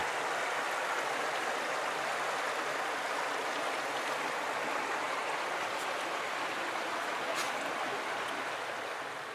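River flowing beside a riverbank in Urho Kekkonen National Park, Finnish Lapland, a steady close rush of water that stays even throughout with no talking.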